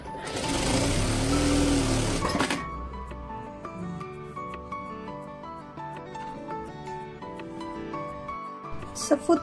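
A Bruce R2 sewing machine runs in a loud, fast, steady whir for a couple of seconds and then stops, followed by softer mechanical clicks and background music.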